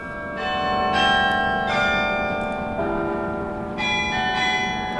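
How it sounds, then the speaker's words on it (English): Church bells played live by a carillonneur ring in overlapping, resonant strokes, some louder and some softer, forming a flowing run of notes with no talk. "Now here's our carilliner Carla playing the bells"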